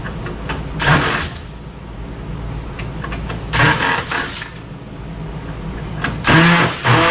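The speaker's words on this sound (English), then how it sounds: "I may need a new bit for that drill." A power drill whirs through metal from a scrapped tanning bed in repeated loud bursts with a worn bit, each burst rising and grinding briefly, with quieter running and handling noise in the gaps.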